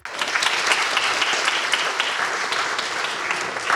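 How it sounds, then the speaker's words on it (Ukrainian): Sustained applause from a concert audience after a symphony orchestra performance, a dense steady wash of many clapping hands filling the whole stretch at even loudness. "Глядачі, житомиряни, зокрема студенти, вітали музикантів оваціями."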